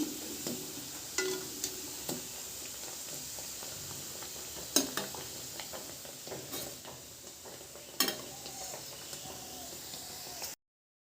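Naan frying in a hot pan gives a steady, quiet sizzle throughout, broken by a few sharp clinks and scrapes of a utensil against the pan, with no talking.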